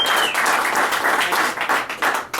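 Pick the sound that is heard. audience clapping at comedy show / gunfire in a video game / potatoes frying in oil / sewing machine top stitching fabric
audience clapping at comedy show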